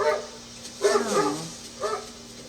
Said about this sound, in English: Another animal? Dog. Dog.